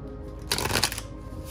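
A Green Witch Tarot card deck being shuffled gives a short, close burst of riffling card noise lasting about half a second, alone without talk.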